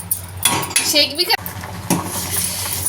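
A spoon stirring boiling rice syrup in a metal pot for a shikakai hair pack, with clinks and scrapes against the pot over a bubbling background, close and fairly loud.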